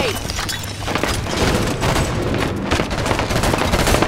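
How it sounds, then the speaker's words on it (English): Grenade going off in Halo 5 multiplayer, a loud, dense burst of blasts and gunfire filling the whole moment without letup. "Throwing grenade."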